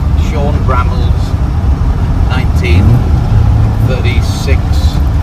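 A 1936 Chevrolet Fangio race car engine rumbles loud and close from inside on a test drive before the Flying Scotsman rally, a steady low drone with someone talking over it.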